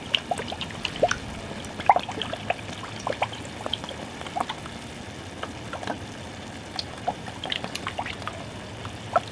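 Hot sauce trickles from a small-mouthed 12-ounce bottle into a pan with cooking onions and garlic, a faint, uneven dribbling and spattering with small drips over several seconds.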